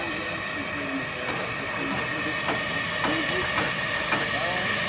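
A 1911 Stanley Model 62 steam car hisses steadily through its final starting stages outdoors at an antique car meet, with a few sharp clicks or taps over the continuous steam and a voice talking over it.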